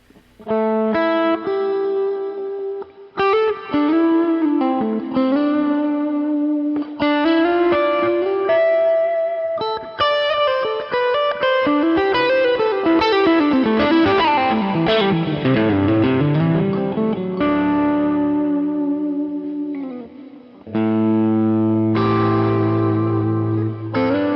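Overdriven electric guitar through a Dumble and Two Rock style amp, playing chords and sliding lead lines, loud and continuous with a gritty, effected tone and a brief pause near the end.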